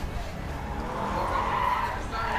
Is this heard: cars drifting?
yes